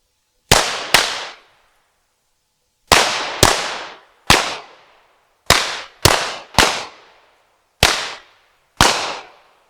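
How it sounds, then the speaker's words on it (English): Handgun shots fired at a shooting range, ten sharp, loud cracks, each with a short echo. They land in quick pairs and triplets separated by brief pauses. "We're going to shoot an additional 3 to 5 rounds."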